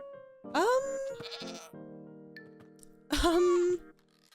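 Goats on a Minecraft farm bleat in two loud, wavering calls a few seconds apart, with a quieter bleat between them over a faint steady background.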